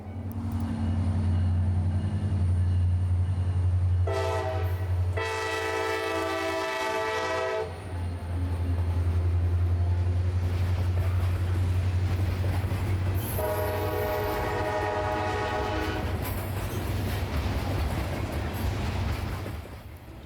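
A CSX freight train of empty rock hoppers rumbles past continuously as its horn blasts twice, a long loud blare followed later by another, over the heavy rolling clatter.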